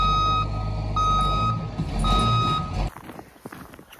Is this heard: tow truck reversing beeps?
yes